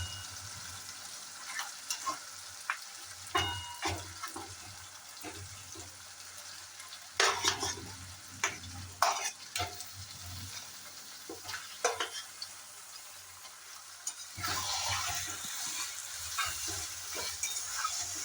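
Mutton pieces frying with spices and coriander powder in a pan for a mutton and potato curry, steady close sizzle broken by scattered stirring scrapes and clinks, swelling louder near the end.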